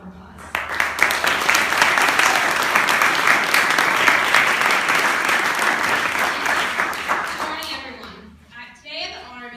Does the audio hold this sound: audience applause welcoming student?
yes